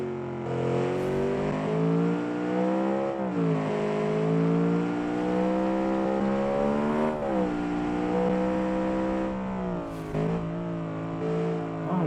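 A small lightweight test car with a 1:1 power-to-weight ratio is driven at full throttle, its engine revving and rising and falling in pitch as it accelerates and slows under hard braking, heard close and loud without talk.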